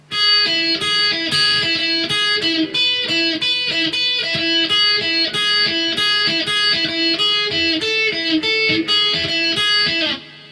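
The second guitar part: bright, plucked repeated notes in a steady rhythm, played alone and clearly up close throughout.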